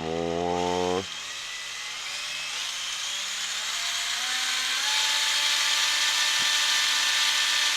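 Tamiya Fighter Buggy RX RC car electric motor revving under throttle, a steady high whirring that climbs in pitch as throttle rises, loud and continuous with a brief higher tonal start.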